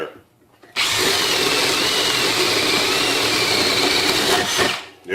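A Milwaukee M18 hammer drill bores through knotty wood with a loud, close, steady whine that starts abruptly after a short quiet moment, holds for about four seconds, then cuts off.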